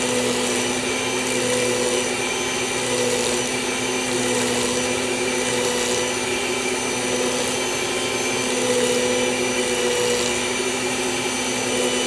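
An electric stand mixer beating creamy cake batter for a banana pudding cake, a loud steady motor whir with a constant hum that runs unbroken and alone.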